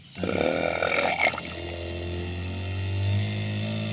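An electric sprayer motor switches on with a brief clatter, then settles into a steady, loud buzzing hum that runs on alone at close range.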